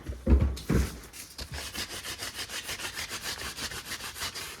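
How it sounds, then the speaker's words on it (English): A broom sweeps dry, gritty, sand-like bits off the ground in quick, regular strokes, a close and steady scratchy swishing rhythm after a couple of heavier knocks at the start. "when you sweep it off, you sweep off the dry bits like that."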